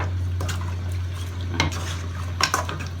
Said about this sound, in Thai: คนเครื่องเนี่ยมันเข้ากันเลยพี่น้อง